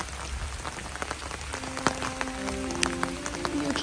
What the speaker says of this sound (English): I'm in a rainstorm